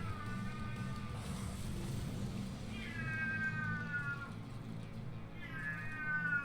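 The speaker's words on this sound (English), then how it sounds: "Disregard the cat from hell." A cat meows three times, drawn-out wavering calls spaced a couple of seconds apart, fairly faint over a steady low background hum with no talking.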